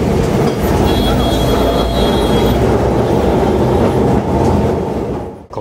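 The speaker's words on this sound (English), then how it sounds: "I don't know how old this tram vehicle is" An old tram rolls through central Kolkata toward Dalhousie Square, a loud continuous rumble of wheels on rails with a thin metallic squeal partway through, heard up close from on board.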